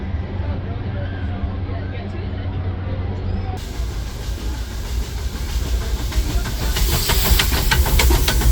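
The Disneyland Railroad steam train rolls along with a broad hiss that grows louder and brighter toward the end, over a steady rumble and clatter; no talking.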